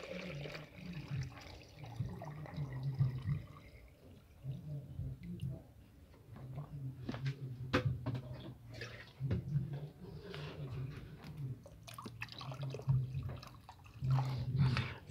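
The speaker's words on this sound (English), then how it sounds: "Add water in the container." Water is poured into a container for a self-watering vegetable setup using cotton threads, a close, uneven splashing trickle that swells and eases in several bursts.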